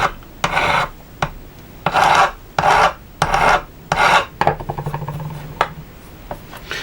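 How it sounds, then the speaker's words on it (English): Close-up rasping of a file working over the hammered end of a metal measuring implement to remove burrs, several distinct back-and-forth strokes followed by a run of quicker, lighter scrapes. "let's just give it a gentle file on the end here. See if we can just remove those burrs."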